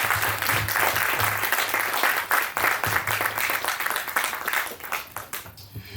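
Audience applauding at a healing garden dedication, sustained dense clapping from a crowd with a low hum beneath, steady and fairly loud before tapering off at the end.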